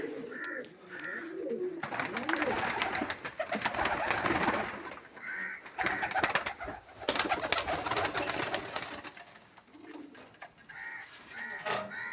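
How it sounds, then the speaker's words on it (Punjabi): Pigeons coo repeatedly in a loft, with doves and pigeons kept as a hobby. The soft, rolling calls come in short clusters over a busy background of rustling and flapping, fairly close, with no talking. "ਇਹ ਤਾਂ ਹੋ ਗਈਆਂ ਕਬੂਤਰੀਆਂ ਕਬੂਤਰਾਂ ਦਾ ਸ਼ੌਂਕ ਕਰਵਾਉਣਾ ਤੁਹਾਨੂੰ"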